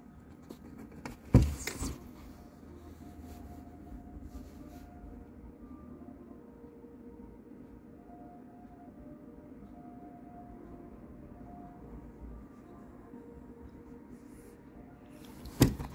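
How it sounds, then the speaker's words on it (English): A low, steady rumble of a passing aircraft drones on and on, with sharp knocks near the start and end. "there goes the plane right there"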